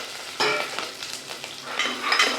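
Onions, dried red chilies and green chilies fry in hot oil for wheat rava upma, a steady close sizzle with stirring scrapes and brief louder bursts as the pan is worked.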